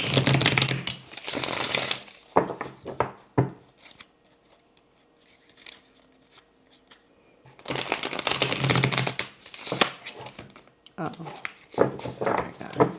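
Tarot cards being shuffled in bursts of rapid riffling and slapping, with a quiet pause in the middle before the card noise resumes loudly; no talk over it.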